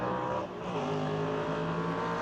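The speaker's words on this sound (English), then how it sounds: "Absolutely gorgeous engine sound there from the two first cars." Classic sports and saloon racing cars power out of a hairpin, their engines accelerating loudly and steadily with rising, layered tones from two leading cars, close and continuous with no speech over them.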